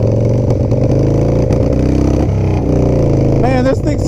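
An FXR motorcycle engine runs with a loud, continuous rumbling idle that throbs steadily and close, with a faint voice partly audible over it.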